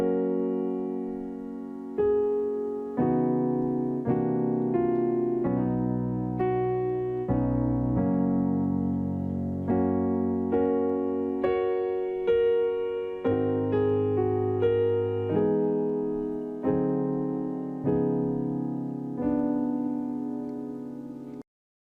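A piano plays the opening section of a gospel hymn in steady, evenly paced chords, each one struck and left to ring and fade, alone at a moderate volume.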